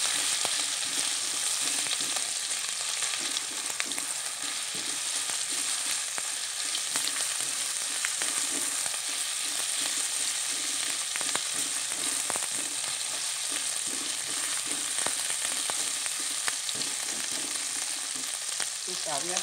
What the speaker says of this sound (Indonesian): Bumbu tongsengnya kita masukkan. Kita campurkan.